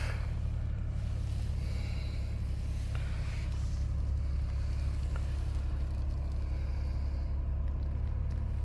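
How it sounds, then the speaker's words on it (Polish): A cold SEAT Ibiza engine idles while warming up, a steady low rumble that holds evenly throughout with no revving and no voices. "Silnik zimny. Musi się zagrzać."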